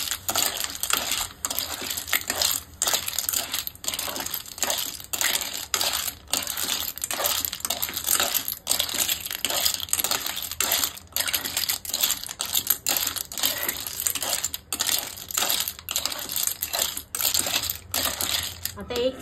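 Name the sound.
clam shells stirred in oil with a spoon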